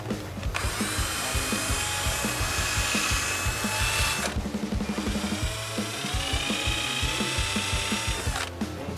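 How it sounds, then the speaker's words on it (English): A power drill whines loudly through a plastic guitar pick guard, widening a hole for a pickup, in two long close bursts with a brief pause between, rattling and grinding throughout. "that's going to need drilled out a little bit"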